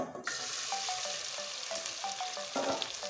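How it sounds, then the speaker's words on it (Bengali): Spiced soya chunks fry in hot oil with a steady, dense sizzle, broken by light clinks of a utensil against the pan; no one speaks. "মশলা মাখানো সোয়াবিনগুলো এখন আমি তেলের ভিতরে ছেড়ে দিচ্ছি"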